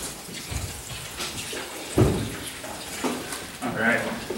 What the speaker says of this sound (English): Add a little bit more water here to the top just to make sure that all of the cannabis is exposed to this cold water.